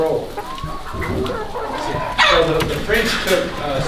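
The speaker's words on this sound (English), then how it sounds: "What kind of chickens are these?" Chickens clucking and squawking close by, with brief rising calls over a person talking; a sharper cluster of clucks comes near the end.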